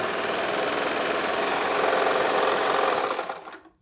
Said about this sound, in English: you're going to see that without any tension adjustment, this is going to stitch through beautifully